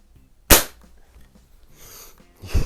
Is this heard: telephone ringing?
no